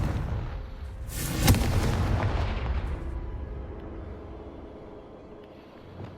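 A Confringo blast spell explodes in the Hogwarts Legacy video game: a sharp boom followed by a long rumbling tail that slowly fades, with a small thud near the end.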